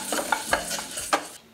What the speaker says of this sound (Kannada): ಹೆಸರುಬೇಳೆ 1 ಕಪ್ ಹಾಕಿದ್ದೀನಿ. ಇದನ್ನು ಡ್ರೈ ರೋಸ್ಟ್ ಮಾಡ್ಕೋಬೇಕು.